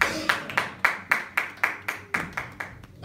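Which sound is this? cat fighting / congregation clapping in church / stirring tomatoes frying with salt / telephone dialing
congregation clapping in church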